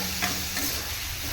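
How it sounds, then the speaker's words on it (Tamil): Onions sauté in a pan for a Nal Velai keerai poriyal, with a continuous bright sizzle and a couple of stirring scrapes up close. "வெங்காயம் நல்லா வதங்கிடுச்சு"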